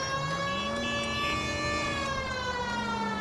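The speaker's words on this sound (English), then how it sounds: "no matter how much people hear the siren" A police siren wails in the video game L.A. Noire, a loud sustained rising-and-falling tone with strong harmonics, alone and continuous.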